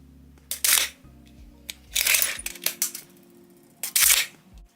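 A cheap yellow tape measure's blade retracting when unlocked: several quick rattling, ratcheting bursts, each about half a second long, heard up close with short pauses between them.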